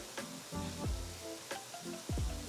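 Hamburger patties sizzle in a hot pan as they are flipped, a steady crackling hiss broken by a few soft thumps and scrapes of the patties being turned.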